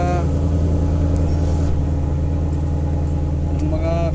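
A Ford Mustang with a damaged catalytic converter runs close by, a low, steady rumbling idle throughout with a couple of faint clicks.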